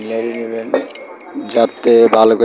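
A spoon clinks against a cup while stirring sugar into tea, giving several bright taps and rattles close by, mixed with a person speaking.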